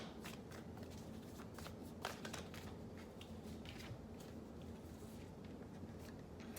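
Moonology oracle cards being shuffled and drawn, a quiet run of soft riffling and papery flicks close by, with a brief sharper snap near the middle and low background hiss.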